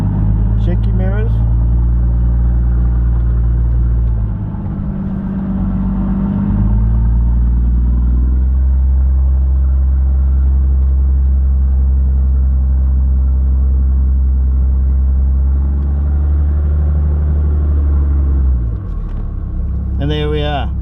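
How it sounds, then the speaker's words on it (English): An automatic 4WD crawls down a steep off-road hill at walking pace, its engine giving a loud, steady low rumble with occasional clatter throughout. "You need to hear that engine working."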